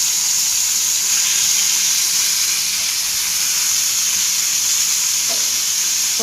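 Stuffed pointed gourds fry in hot mustard oil for potol dolma, a loud continuous close-up sizzle holding steady throughout, with a couple of faint scrapes as the pieces are turned near the end.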